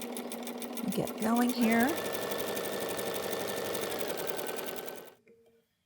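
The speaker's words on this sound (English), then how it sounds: "I'm just gonna sew with a white or a gray, and we're going to sew a 1/4 inch like we always do as quilters." Quilter's sewing machine stitching a quarter-inch patchwork seam on fusible grid, a steady rapid mechanical whir running several seconds after a short spoken remark, then stopping abruptly.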